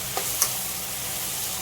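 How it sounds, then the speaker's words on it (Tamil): Food sautéing in a pan, giving a steady, even sizzle that holds throughout, with a couple of faint clicks early on. "இதை ஒரு 2 minutes வதங்க விட்டுறலாம்"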